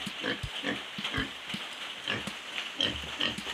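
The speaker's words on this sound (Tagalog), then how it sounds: "Hindi po namin nakastrate ang isang ito para gawing palahiang baboy." Young uncastrated boar being raised as a replacement breeding pig, grunting in a pen: short rough grunts and snorts come in a loose, repeated rhythm, close and fairly loud, with no talking.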